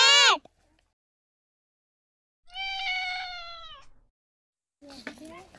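A cat gives two separate meows, a short rising one and then a longer, drawn-out one, followed by a brief third cry. The meows are clear and close, with silence in between.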